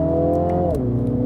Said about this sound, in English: Then we get this blob from the exhaust.